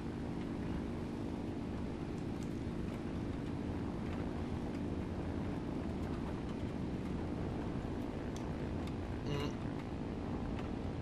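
Airplane engines roaring steadily at full power during a takeoff run in the War Thunder flight simulator, a dense continuous drone that stays loud throughout with a faint speaking voice underneath.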